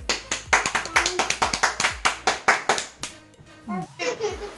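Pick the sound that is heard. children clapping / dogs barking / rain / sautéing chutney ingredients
children clapping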